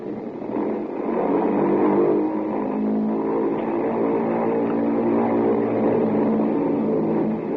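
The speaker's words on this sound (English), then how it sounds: "while we were completing our engine run up at the head of the runway" Bomber aircraft engines running up at the head of the runway, a loud, steady, droning roar that builds in the first two seconds and then holds evenly throughout, alone with no voices.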